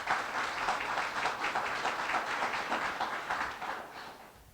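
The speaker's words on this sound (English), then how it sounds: "So can we give them a round of applause," An audience claps loudly and continuously at a grant announcement, the applause holding steady before tapering off toward the end.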